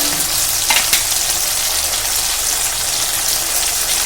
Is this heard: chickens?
no